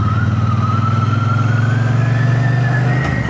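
A Triumph Bonneville motorcycle pulls steadily up through the gears on a straight, its engine note loud, close and continuous, rising in pitch with a change at the end.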